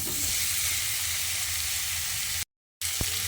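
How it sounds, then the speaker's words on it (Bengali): Raw potato pieces sautéing with spices in a hot pan, a steady, even sizzle and hiss that runs without a break, drops briefly to silence, then resumes with a faint tap. "তারপর বেশ কিছুক্ষণ সময় ধরে আলুটাকে মশলার সঙ্গে এভাবে কষিয়ে নিতে হবে।"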